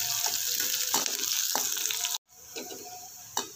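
Finely chopped onion and green chilies with ginger sizzle in a pan, a close, steady frying hiss with a few stirring clatters and a brief gap.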